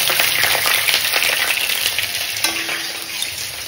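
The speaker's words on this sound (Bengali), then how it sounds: "এই আলুটা ভাজবো আর দিয়ে দেবো, ব্যাস।" Loud, steady sizzling of potatoes frying in a wok, with occasional scraping and stirring, no voices.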